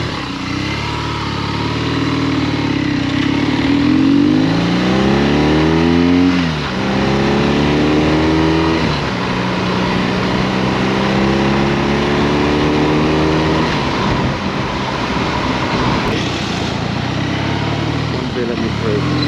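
BMW R nineT motorcycle with its stock exhaust, riding along with a steady engine drone that rises and falls as the revs climb and drop through gear changes, with a voice talking over it at times.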